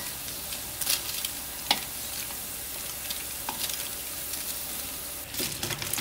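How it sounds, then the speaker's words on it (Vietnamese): Cassava cakes with dried shrimp fry in oil in a pan, giving a steady close sizzle broken by a few sharp pops and crackles, with no talk over it. "Thì bây giờ là mình sẽ chiên bánh á, cho nó vàng"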